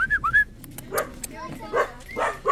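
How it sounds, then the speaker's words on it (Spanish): Street dogs outdoors bark, yip and whimper in short high bursts, several animals close by, with shouting and people's voices mixed among the calls. "¡Hola, perritos!"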